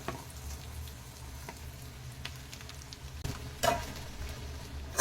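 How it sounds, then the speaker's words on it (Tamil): Chopped fresh coriander leaves sauté in a pan for chutney, a low continuous sizzle with a few stirring scrapes and taps, one louder stir near the end, no speech. "சேர்த்துட்டு நல்லா வதக்கி விட்டுருங்க."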